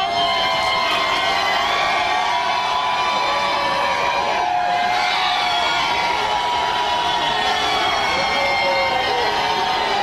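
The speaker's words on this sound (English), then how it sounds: "They've been cheering" A crowd of young Ron Paul supporters at a rally cheering and shouting continuously, a loud dense roar of many voices with whoops rising and falling throughout.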